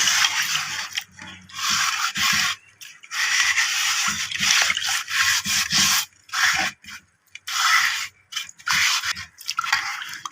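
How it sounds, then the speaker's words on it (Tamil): A scrubber rubs hard against a new clay pot in repeated rough strokes, close up, with brief pauses between bursts of scrubbing. "இது மாதிரி ஒரு ஸ்க்ரப்பர் எடுத்து"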